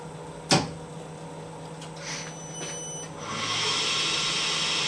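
A Tormach milling machine starts its spindle warm-up cycle. A sharp click is followed by a faint whine that ramps up into a steady, louder mechanical hum in a quiet shop.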